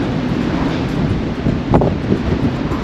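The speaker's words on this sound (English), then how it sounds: "It's pretty windy now." Steady wind buffets the microphone on the deck of the Diamond Princess cruise ship, a broad rushing roar with a brief stronger gust near the middle, no voices.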